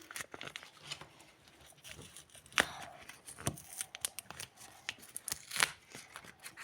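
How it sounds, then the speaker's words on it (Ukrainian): A package of cheese lavash is opened with an opener, making crisp snipping and crinkling plastic sounds in irregular close bursts, with a few sharper cuts standing out. "Відкрили наш лаваш. Відкриванкою."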